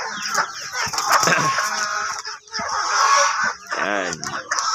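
Crossbreed chickens cluck and squawk steadily inside a coop, with a brief flutter of wings and a voice talking at moments over the busy, close-up flock.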